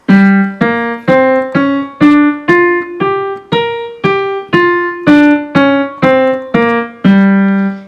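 A piano plays a scale run from a song: about a dozen evenly spaced notes climbing and then descending, each clearly struck and sustained, with no talk.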